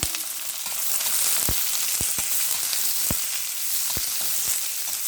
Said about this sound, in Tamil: இப்போ வெங்காயம், பச்சை மிளகா போடலாம்.